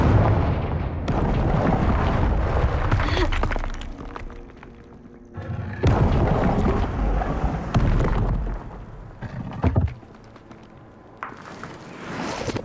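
Repeated heavy blasts from the Confringo fire spell in Hogwarts Legacy, loud booming bursts that swell and decay in several waves, close and dominant with no voices.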